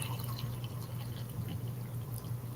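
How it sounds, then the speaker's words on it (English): Coffee poured into a cup, a steady close liquid stream running throughout with a low hum beneath and no talk. "I gotta watch when I pour because the screen might jump."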